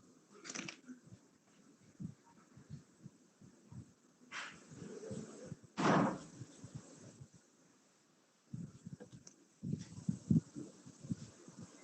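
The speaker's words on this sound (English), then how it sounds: "So there was noise coming from outside, so I closed the door." A door is pulled shut during a college webinar, blocking noise from outside: one solid thud near the middle, set among faint room sounds and low background rumble, with no talking.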